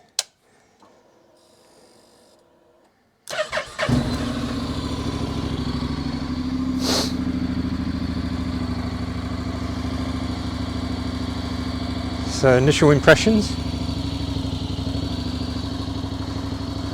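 A Honda NC750X motorcycle fitted with a Delkevic 340mm exhaust, baffle installed, starts up after a quiet moment and settles into a steady, close idle with a brief blip of extra clatter near the end.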